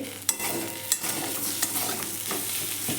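Potatoes coated in aloo dum spice mix sizzle in a pan as a spatula turns them, knocking the pan in four or five sharp, evenly spaced taps over a steady frying hiss.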